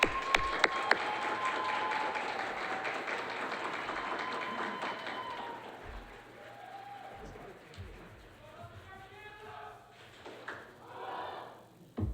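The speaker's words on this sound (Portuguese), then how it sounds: "uma salva de palmas para ela." Audience at a Scout Day ceremony applauds steadily for several seconds, fading out as voices and scattered taps and thumps take over toward the end.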